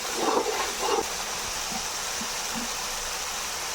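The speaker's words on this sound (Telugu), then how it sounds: "అల్లం వెల్లుల్లి పేస్టు 1 స్పూన్ వేసుకొని పచ్చి వాసన పోయేంత వరకు బాగా వేయించుకోవాలండి" Ginger garlic paste frying in a pan while Vankaya Masala (eggplant curry) is being cooked, giving a steady, close hiss with a few faint clinks and scrapes early on.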